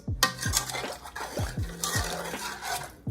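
Spoon stirring butter into a rice and peas mixture in a pot, close and steady, with repeated scraping sweeps and knocks against the pot in a regular rhythm.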